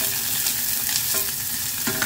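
Onions sautéing in a pan for chicken tinola, a steady close sizzle and crackle of frying throughout with a few soft stirring knocks, no talking.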